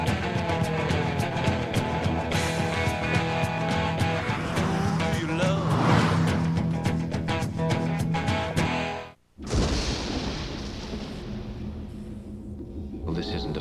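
A V6 car drives under a dense, loud commercial soundtrack, its engine and road rumble mixed with music and voices for most of the clip, then a sudden brief dropout before the busy mix resumes.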